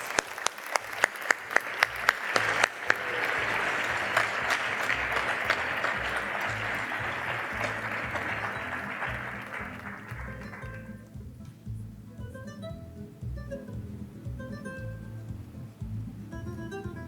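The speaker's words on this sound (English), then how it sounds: "And we have one final round of applause for all of our primary students." Applause from an audience at a primary school graduation ceremony for the graduating students, a dense sustained burst with sharp early claps that fades over about ten seconds into scattered clapping and quiet room murmur.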